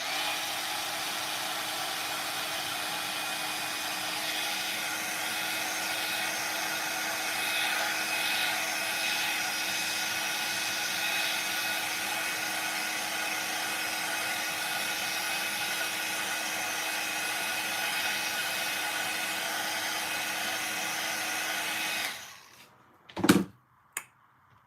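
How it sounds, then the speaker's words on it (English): Heat gun used for card embossing blows a steady, loud whooshing hum for over twenty seconds, then cuts off abruptly, followed by a couple of brief knocks. "I do just want to hit this with my heat gun really quick"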